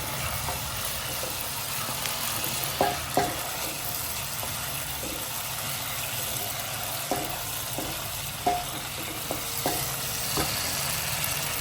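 Cashew nuts frying in hot oil in a pan after dried red chillies, a steady close sizzle with occasional clicks and taps of a spoon stirring, no talking.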